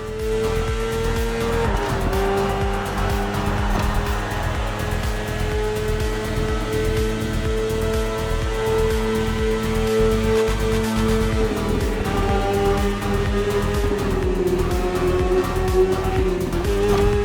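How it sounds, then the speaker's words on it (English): A BMW S1000RR superbike in the racing game The Crew Motorfest howls at high revs, with a steady loud engine drone that shifts pitch as gears change, continuous and up close. "The one you're riding is the S1000RR. It's what we call a superbike."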